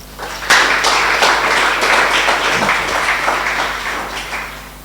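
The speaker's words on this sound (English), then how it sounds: "can you please give a big round of applause to the partners who made tonight happen?" Audience at a startup demo day event applauding the partners, a dense wash of clapping that starts abruptly, holds steady for several seconds and gradually thins toward the end.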